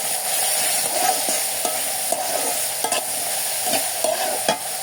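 Fish sautéed in a pan with chili, turmeric and coriander powder, a steady close sizzle broken by regular scraping stirs of a spatula, about one every half second to second, with no voices.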